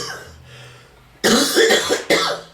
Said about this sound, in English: And the signature cough.